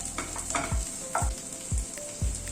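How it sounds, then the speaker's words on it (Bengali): Onion, ginger, garlic and green chilli stir-fry in a hot pan for a paneer curry, with steady close sizzling and four regular, thudding stirs of a spatula against the pan. "পেঁয়াজ, আদা, রসুন, কাঁচা লঙ্কা সবগুলোকে আবার এই মিনিট খানেক মতো একটুখানি নাড়াচাড়া করে নিলাম।"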